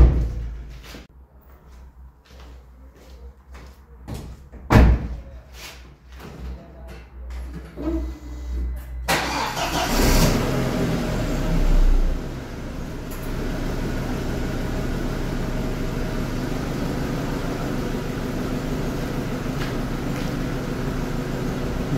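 An Audi A4 B6 engine idles after exhaust repair. A few quiet clicks come first, then a steady, even low hum runs on alone.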